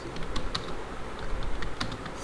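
Typing on a computer keyboard, with a steady run of soft, quick key clicks at close range, heard alone over faint room hiss.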